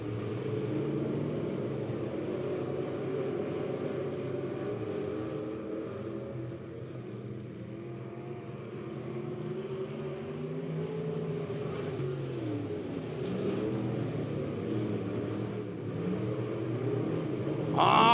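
Race cars roar around the dirt oval of Lebanon Midway Speedway during a season championship, a continuous layered engine drone that swells and fades as the pack circles, with no talk.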